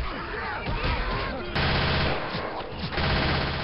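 Magnum pistol gunfire in the zombie shooter Left 4 Dead 2: loud sharp shots within a dense, busy game soundscape, heard under players' talk.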